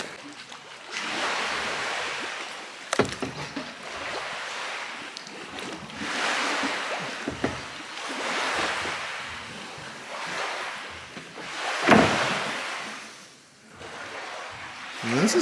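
Lake water lapping and surging inside a rocky cave at Turnip Rock, heard from a kayak, a steady wash of waves rising and falling in slow swells with occasional sharper splashes and light wind noise.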